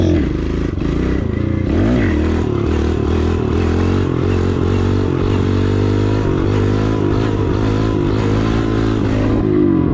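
A small Kawasaki KLX 110L dirt bike engine buzzes loud and close while riding, its pitch rising and dipping with the throttle, with clatter over the bumps.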